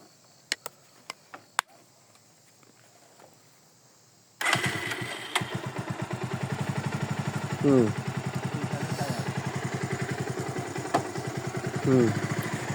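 A Pulsar motorcycle engine fires up after a few clicks and then idles with a steady close rumbling chug, giving two brief revs on a hillside road, while people talk nearby.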